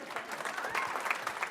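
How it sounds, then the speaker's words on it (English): Scattered clapping from a small audience at a book talk, fairly faint and short with uneven claps, a voice briefly audible underneath. "Yeah, you can clap."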